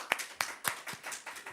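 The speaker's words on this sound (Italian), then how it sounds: "direi che merita un applauso" A few hands clap in sparse, separate strokes, about half a dozen evenly spaced claps at a presentation of the Noale Infiorata and Palio events, moderately close and fairly soft.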